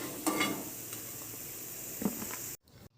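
Gulab jamun fry in hot oil with a steady hissing sizzle, punctuated by a few soft clinks and stirs as they are turned. The sound cuts off abruptly to near silence at the end.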